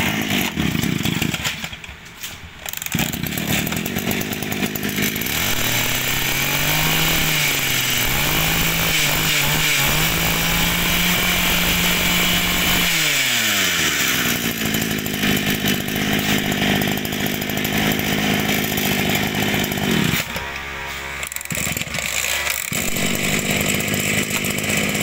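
A Green Spirit 24cc Japanese brush cutter engine runs close and loud, its two-stroke buzz climbing and falling as the throttle is worked, with a long high rev in the middle and no talking.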